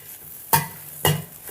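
Turmeric and chili powder are stirred into grated coconut in a pan for beetroot fry, two distinct scraping strokes about half a second apart over a faint background sizzle, close and clear.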